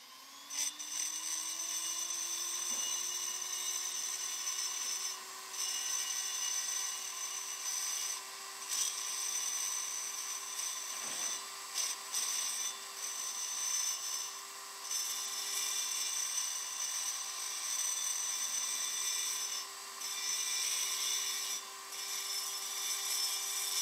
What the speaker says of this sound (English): now we can grind a little bit more out of there with the burr.